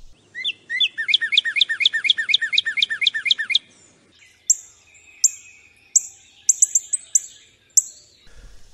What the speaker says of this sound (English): I'm going to play the cardinal, a bird I'm hoping most of our listeners are familiar with